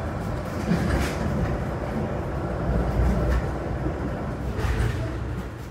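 Steady rumbling roar of a Metra BNSF express train passing through a station without stopping, heard from inside a gallery car, with continuous wheel and track noise and faint rhythmic clatter.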